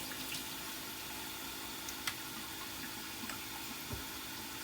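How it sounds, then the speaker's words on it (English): A kitchen tap runs steadily into a sink while hands are washed, giving a continuous close hiss of water with a few small splashes and knocks and no talking. "I'm going to come over here and wash my hands"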